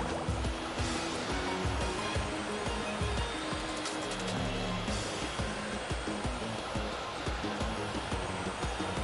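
Rushing water and surf-like wash carve continuously through a busy game soundtrack as a character rides waves in the video game Genshin Impact, loud and steady throughout with musical tones layered on top.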